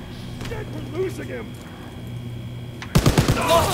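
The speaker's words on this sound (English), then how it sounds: "I'm about to use this machine gun though" Machine gun fire in a WW2 video game, a short burst of several rapid shots arriving near the end after quieter game ambience, with a voice talking over the background.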